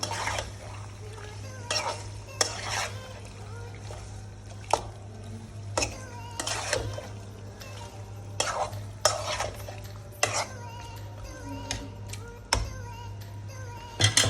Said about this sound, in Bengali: এখন ভালোভাবে নাড়া দিয়ে ঢেকে দেব।